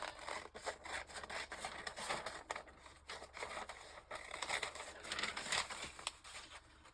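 Steady scissors cutting through paper, a continuous rasping snip with short pauses, close by and moderately loud, no voices.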